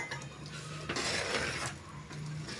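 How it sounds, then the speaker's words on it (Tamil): A spoon stirs eggplant and potato pieces into masala in a metal pot, making scraping, clinking strokes in two bursts, close and moderately loud with no voices. "அதையும் சேர்த்துட்டு நல்லா கலந்து விட்டுக்கலாம்."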